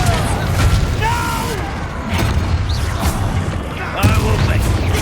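Blasting spell explosions in the Hogwarts Legacy video game, with booming low-end bursts repeating over dense battle noise and music across the span, loudest near the start and again toward the end.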